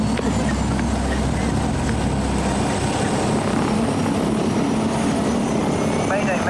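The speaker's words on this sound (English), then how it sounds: "Helicopter's getting a bit close, isn't it?" A helicopter flies close overhead, its steady loud rotor and engine roar filling the scene continuously, with faint voices underneath.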